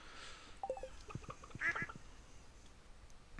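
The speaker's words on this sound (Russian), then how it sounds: "Я надеюсь, мои утки," Ducks quacking in the Stardew Valley farming game, a few short nasal calls clustered near the middle of a quiet stretch, fairly faint and with no talking over them.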